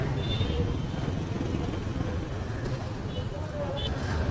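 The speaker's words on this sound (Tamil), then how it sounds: "Traffic traffic traffic." Road traffic where metro construction is under way, heard as a continuous low rumble of engines with faint horn-like tones breaking through now and then.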